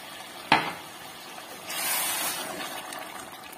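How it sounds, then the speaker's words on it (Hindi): Water poured into a pan of fried potatoes for a potato mince dish, starting with a sharp splash and then a broad hissing sizzle that swells and slowly fades, heard up close with no talking. "अब इसमें हम पानी ऐड करें।"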